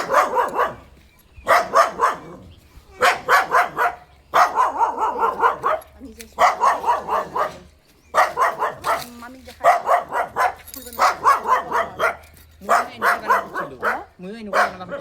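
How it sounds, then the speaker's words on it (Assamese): A tied-up dog at a rubber plantation in Goalpara barks repeatedly in loud, close bursts, with people talking among the barks. "কুকুৰ আছে দেই বান্ধি দিছে"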